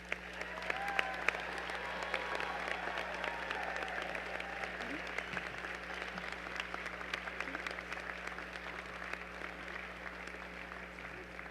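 A large audience at the 2019 UNR Med hooding ceremony applauds medical school graduates. The clapping is dense and continuous and holds at an even level throughout, with no break.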